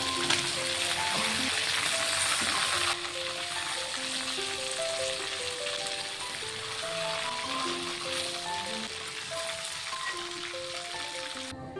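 More mutton pieces sizzle in hot oil, a loud continuous crackling fry that drops slightly in intensity partway through and then carries on evenly.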